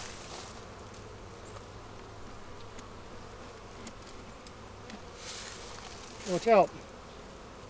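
Honey bees buzzing around beehives while the hives are being supered in spring, a steady faint hum throughout with a brief louder burst near the end as a voice calls out.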